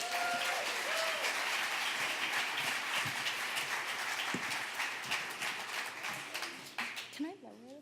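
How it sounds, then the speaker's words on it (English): A storytelling-night audience at a StorySLAM show gives sustained applause as a performer is brought on stage, the dense clapping holding steady for several seconds before fading, with a few voices and a brief squeal of stage noise at the end. "let's bring her on some applause"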